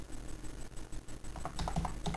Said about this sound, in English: I'll type